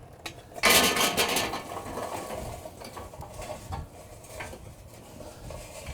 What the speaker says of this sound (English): let's go ahead and put our charcoal in here